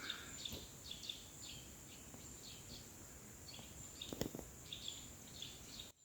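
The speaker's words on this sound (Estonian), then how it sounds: "Huvitav, kas kaamerasse jääb ka seda linnu." Small birds chirp and twitter in a forest along a trail in November, repeated brief calls at a moderate distance over a steady hiss of insects or wind, with no talk.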